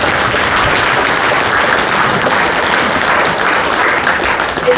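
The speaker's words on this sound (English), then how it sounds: "Would you give these 2 folks a round of applause?" A dense, steady round of audience applause for two grant recipients at a Main Street business grant presentation, loud and continuous without pause.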